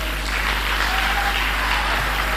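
A crowd claps for a man being honoured as an extraordinary Nigerian, a brief, even wash of many hands clapping at steady loudness with a low hum underneath.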